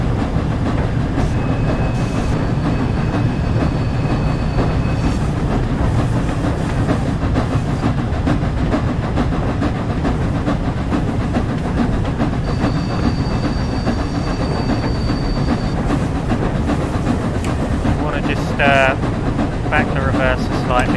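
The Flying Scotsman steam locomotive in Train Sim World 4, running with an uneven, offbeat exhaust, gives a continuous loud rumbling chuff and rail noise with occasional metallic squeals and brief whistle-like tones, while someone talks over it.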